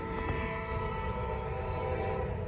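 A Norfolk Southern northbound freight train rolls past a trackside spot in Gaffney, South Carolina, making a steady, loud, close rumble with a humming mechanical drone throughout.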